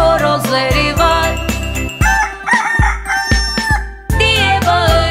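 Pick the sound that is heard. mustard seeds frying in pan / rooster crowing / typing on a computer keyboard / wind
rooster crowing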